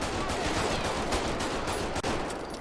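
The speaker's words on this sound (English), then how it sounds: "All right, shots fired, suspect down." Gunfire from police officers at a suspect holding a bat, a rapid cluster of loud sharp shots filling the moment, with a brief gap near the end.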